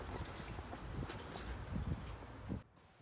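Steady wind buffeting the microphone outdoors on a sunny day in Vancouver, a low rumbling rush with gusts swelling and fading, no voices.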